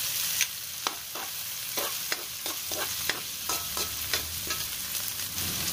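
Onion and garlic frying in hot vegetable oil in a pan, a steady crackling sizzle broken by repeated scraping strokes of a spatula at an even rhythm, close and fairly loud, with no voices.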